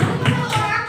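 Classroom children doing the 'tepuk ikan' fish clap chant, a few loud, close rhythmic claps and thumps spaced through a brief moment, mixed with chanting voices.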